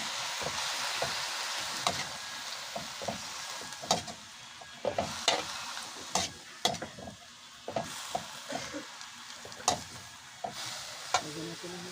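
Cabbage and instant noodles stir-fried in a pan, a steady sizzle under repeated sharp scraping and clacking strokes of a utensil, close and clear.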